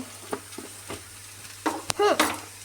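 Salt is stirred into chicken pasta in a pan: quiet scraping stir strokes over a faint sizzle, with a few louder scrapes and clinks toward the end, no talk.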